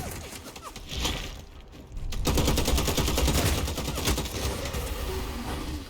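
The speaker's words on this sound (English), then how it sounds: "We might be able to cause some havoc with this assault rifle." Sustained automatic assault rifle fire in the vampire battle royale game Bloodhunt, a dense rapid rattle of shots that starts after a short gap and keeps going, loud and close, with no talking.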